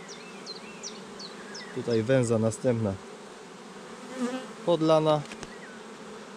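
Honey bees buzz around an open hive during a frame inspection, a soft steady hum beneath someone speaking briefly, with a few sharper nearby buzzes.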